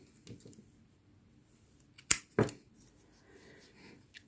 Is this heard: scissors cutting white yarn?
yes